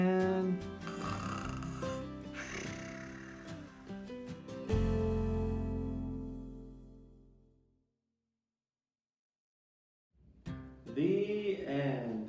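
A storyteller's voice imitates Little Bear snoring in a children's picture book read-aloud: several long, rumbling snores with snorts, close and loud, trailing into a pause of silence before another snore starts.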